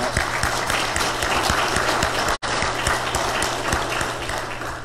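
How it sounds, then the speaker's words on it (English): A church congregation claps together in praise, a dense, steady roar of many hands with some rhythmic beats showing through, interrupted by one brief dropout midway. "we're just going to clap"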